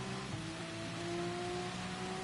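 Steady hiss of rain in a racing video game, a dense even wash continuous throughout with faint engine-like tonal hums running beneath it.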